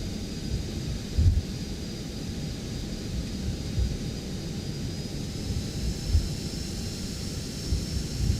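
Jet engines of a ToLiss A320 with CFM engines in the X-Plane 12 flight simulator, a steady broad roar with a faint high whine and occasional low thumps, alone without talk.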